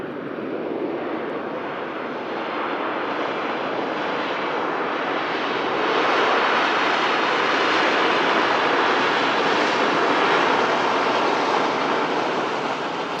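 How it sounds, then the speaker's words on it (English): A Ryanair Boeing 737-800 arriving from Lanzarote roars steadily as it comes in, a loud broad jet rumble that swells slightly midway and holds strong throughout, with no voices. "In from Lanzarote, Ryanair 737-800"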